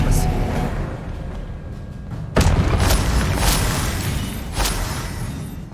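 A booming magical spell impact from the Hogwarts Legacy video game bursts loudly mid-battle, a dense crashing blast over ongoing combat noise.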